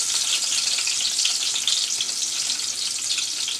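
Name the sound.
small chopped onion frying in a pan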